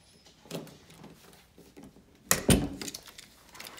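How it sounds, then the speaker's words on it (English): A door swings shut with one solid, close thunk partway through, after a few seconds of soft shuffling and handling noises; no voices. "and close the door."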